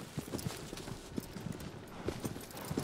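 Horse hooves in the video game Shadow of the Colossus, a faint, rhythmic clip-clop of a galloping horse under light background noise.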